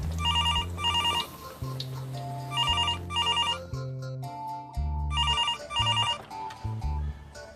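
A telephone keeps ringing in a comedic Indonesian sinetron scene, with loud repeated electronic ring bursts in a steady on-off rhythm over a busy musical background.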